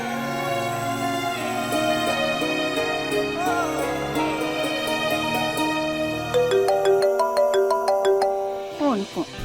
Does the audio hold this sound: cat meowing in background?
no